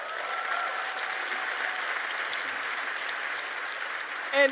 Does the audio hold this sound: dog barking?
no